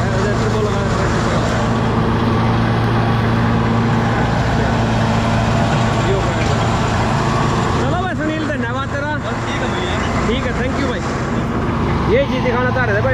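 A Massey Ferguson 8055 Dynatrac tractor engine runs steadily at idle, a constant low drone with harmonic hum, while voices talk over it in the second half.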